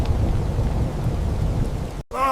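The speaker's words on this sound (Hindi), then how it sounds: "बादल बहुत गहरे हो गए, बारिश आने वाली है।" Cartoon storm: steady heavy rain with low rumbling thunder, loud and close for about two seconds before a brief cut to a different sound.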